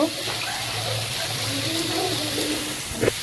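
Water is poured into a pot of cooking lentils for haleem, a steady close gush over a low rumble, ending with a brief clatter.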